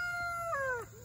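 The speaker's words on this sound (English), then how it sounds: "Turkey ain't gonna bother you." A turkey calls once, close and clear, in a short tonal call that bends downward in pitch against a quiet outdoor background on a farm.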